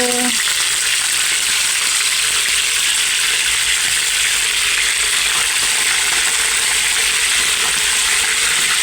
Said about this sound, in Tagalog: Gusto ko lang prito ng konti yung balat.